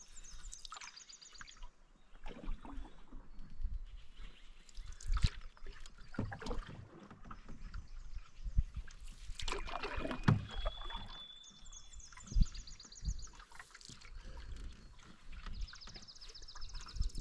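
Canoe paddled alone on a wilderness lake, soft irregular paddle dips and water swishes close by, with faint bird calls in the background.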